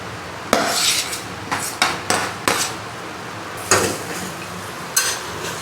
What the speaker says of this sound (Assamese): পিঁয়াজখিনি অলপমান গলি যোৱালৈকে ভাজিম